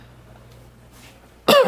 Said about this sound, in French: excusez-moi, encore une toux sèche